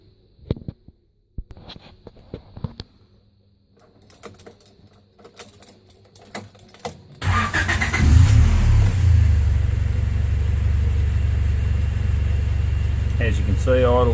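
A Honda B18 1.8 litre engine fitted in a Moke cranks over after some quiet clicks and handling noises, then catches and settles into a loud, steady, close idle around 700 to 800 rpm.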